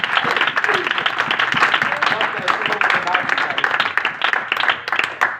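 A church congregation bursts into loud, enthusiastic applause during a sermon, a dense continuous clatter of many hands with voices and cheers mixed in throughout.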